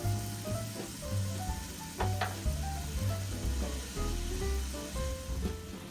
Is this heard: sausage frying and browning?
yes